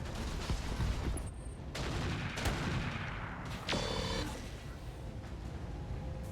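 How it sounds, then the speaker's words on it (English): Autocannon fire in the mech game RogueTech booms out in several heavy bursts against a dense backdrop of other battle noise, with no talk over it. "Oh, that was two autocannons."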